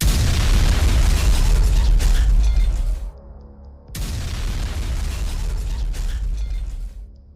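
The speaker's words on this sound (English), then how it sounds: "within seconds, both targets were obliterated in thunderous explosions" Thunderous battlefield explosions: a loud, sustained roaring blast that cuts off abruptly, then after a brief gap a second long rumbling explosion that fades out.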